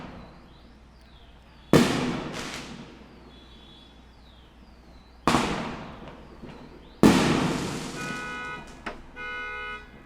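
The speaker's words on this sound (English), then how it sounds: "Some big fireworks." Three sharp, loud firework blasts a few seconds apart, each crackling and decaying, with whistling trails and fizzing sparkle between bursts.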